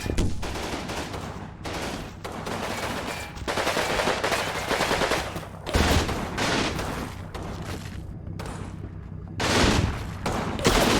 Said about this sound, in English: They still have a machine gun up there?